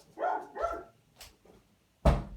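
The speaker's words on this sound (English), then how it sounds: "I'm sorry about that dog barking there on the outside." A dog barks outside: a pair of sharp barks close together, a quiet stretch with a faint yelp or two, then one loud, close bark to finish.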